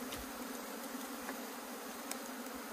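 Honeybees buzz around a rural hive after the swarm has gathered on a tree: a faint, continuous insect hum with a few brief louder passes and no talking.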